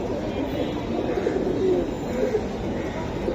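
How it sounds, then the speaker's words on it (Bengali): A silver Giribaz pigeon coos in low, rolling calls amid a busy wholesale pigeon line, the cooing overlapping steady crowd murmur and faint background voices. "উড়াউড়ি করার জন্য খুবই এটা পাওয়ারফুল কবুতর"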